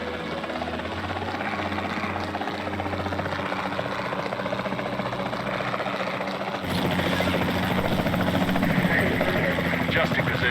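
Helicopter rotor and engine drone in the video game Jurassic World Evolution 2, a steady loud throbbing whir that holds throughout and swells louder partway, with game voices talking over it.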